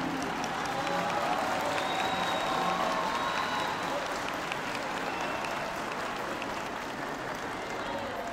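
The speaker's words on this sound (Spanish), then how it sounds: "Más fuertes aplausos." An audience applauds steadily at a school folk festival for third- and fourth-grade classes, a dense, even wash of many hands clapping with crowd noise that holds for the full stretch without fading.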